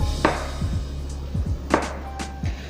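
Knife chopping Spam into chunks on a cutting board: a series of close, sharp taps and thuds in an uneven rhythm, some strikes paired in quick succession, with a low steady hum underneath and no talking.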